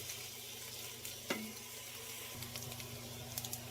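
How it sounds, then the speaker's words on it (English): Ham browns in olive oil in a soup pot, giving a steady, soft frying sizzle with occasional pops and small spatters, close and fairly quiet, with no voices. "The ham's coming along, starting to get brown, sticking to the bottom, which I want for my broth."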